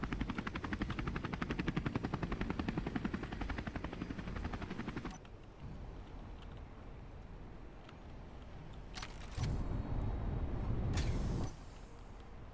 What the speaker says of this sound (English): I love the sound effects for the modded propellers